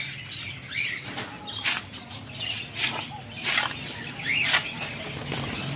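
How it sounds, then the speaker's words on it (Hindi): Pigeons in a bird shop make soft, repeated coos and rustling, fluttering noises in uneven bursts over a low background hum. "ये माशाल्लाह मजीद कबूतर का माल पड़ा हुआ है"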